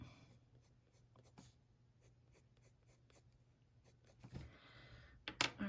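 Waxy colored pencils drawing long lines on paper, giving quiet, evenly spaced scratchy strokes in a steady rhythm, with a louder rustle and bump near the end.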